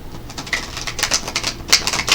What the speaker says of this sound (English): let's go ahead and pull a chakra wisdom tarot card for you, Leo. Shuffle these up a little bit.